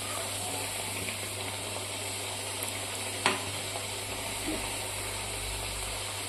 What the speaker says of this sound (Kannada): 3 ರಿಂದ 4 ಬಿಟ್ಟು ಎಣ್ಣೆ ಒಳಗೆ ಕರಿಬೇಕ್ರಿ.